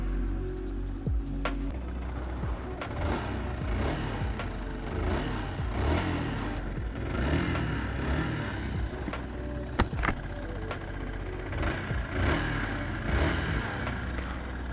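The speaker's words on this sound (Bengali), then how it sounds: "সো আপনাদের বাইকের একটু ইঞ্জিন সাউন্ডকে শোনাই, কেমন কন্ডিশনে আছে শুনলে বুঝতে পারবেন।" A modified Yamaha R15 V2 motorcycle engine idles loudly close by and is revved again and again, with repeated rising and falling surges over a steady throbbing hum.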